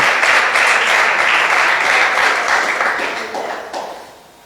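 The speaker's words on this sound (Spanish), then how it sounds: "¿Cuántos le dan un aplauso al Señor?" Church congregation applauding during a Spanish-language worship service, a dense, steady wash of many hands clapping at close range that fades gradually toward the end.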